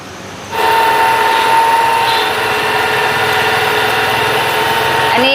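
A power drill bores bolt holes through a thick wooden piece for a radiator-style fan, giving a loud, steady whining drone with a pitch shift near the end.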